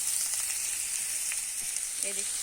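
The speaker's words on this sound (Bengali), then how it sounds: "এই যে এখানে আলু ভাজা হচ্ছে" Potatoes fry in an old, long-used wok, giving a steady, close sizzle and hiss that runs without a break, with a faint brief tone near the end.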